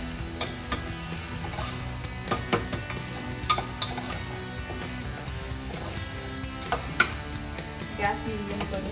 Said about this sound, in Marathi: तर मी परत एकदा हे व्यवस्थित फिरवून घेते.